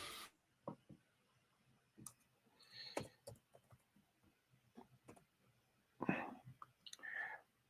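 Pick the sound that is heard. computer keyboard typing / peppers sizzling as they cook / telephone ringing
computer keyboard typing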